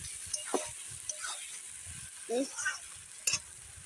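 Chicken fries in a spice paste, stirred in a pan with soft scraping and a few brief clinks over a faint sizzle.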